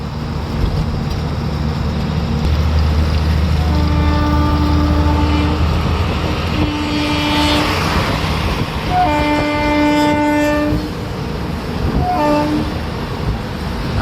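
A train rumbles past close by, a loud, steady roar of rail cars, with several drawn-out horn blasts sounding in the middle and toward the end.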